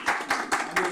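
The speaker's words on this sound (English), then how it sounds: "So give a applause to the Shashi here." A classroom of students claps during a hands-on structural engineering lesson, a few irregular bursts of close, short applause with no speech.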